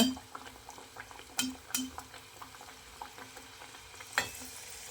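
Kajjaya (athrasa) dough pieces frying in hot oil, a soft steady bubbling with scattered metallic clinks from a utensil against the pan, close and moderately quiet.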